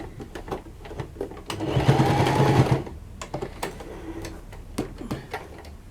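A sewing machine stitching a shabby chic wall hanging: a loud burst of rapid, steady needle chatter lasting about a second, surrounded by scattered clicks and light handling knocks.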